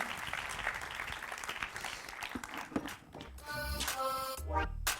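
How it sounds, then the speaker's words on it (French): A conference audience applauds with a dense, steady patter of clapping that holds for a few seconds, somewhat distant and moderate in level, before giving way to brief tonal sounds near the end. "Merci beaucoup Nathalie, qu'on peut applaudir"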